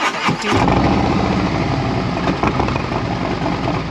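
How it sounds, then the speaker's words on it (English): A motorcycle engine cranks and catches, then settles into a steady, throbbing idle close by. "listen to my engine. I purposely do it on this motorcycle so you can hear."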